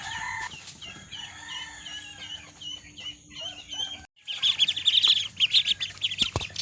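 Hungry ducklings being fed soaked feed, a flock of high, insistent peeping calls, loud and continuous near the microphone, rising into dense shrill bursts after a short pause.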